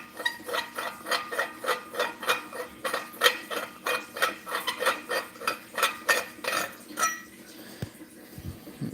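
A broken horn part is being unscrewed, giving a quick, regular series of dry rasping twists, roughly two strokes per second for about seven seconds, close up, before the motion stops and a faint clunk follows.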